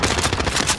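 Rapid gunfire in a shooter video game, a dense burst of shots in quick succession, loud and close and filling the whole moment.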